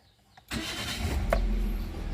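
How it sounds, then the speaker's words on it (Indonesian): A 2014 Daihatsu Terios TX automatic starts up: a brief starter crank gives way to a steady, close engine idle that holds for the rest of the short clip, with no talking. "Kita nyalakan mesinnya."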